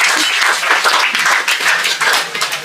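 A small group in a spoken English class claps together in a brisk, continuous burst of close, bright hand claps lasting a couple of seconds.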